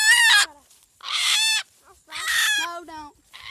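Bantam rooster crowing loudly up close, three harsh, strained calls with short pauses between them, plus a few faint clucks in the gaps.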